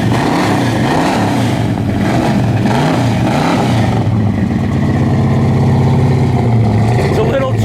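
A 1970 Pontiac GTO's engine rumbles loud and close while driving on a chilly day, its low exhaust note rising and falling through several revs, with someone talking over it.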